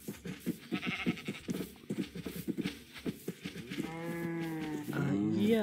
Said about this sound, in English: Yeah, I think that's a sheep. Yep, that's a sheep.